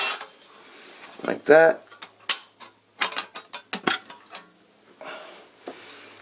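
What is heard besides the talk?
metal stove ash pan being set in place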